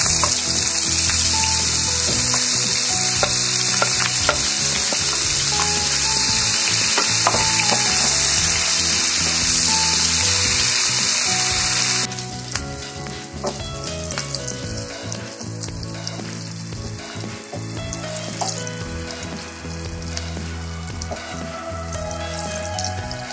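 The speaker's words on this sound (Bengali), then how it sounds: "পেঁয়াজটা আমি হালকা ভেজে নিচ্ছি" Chopped onions fry in a pan with a continuous crackling sizzle. The sound is bright and dense at first, then softens partway through, with scattered pops and no voices.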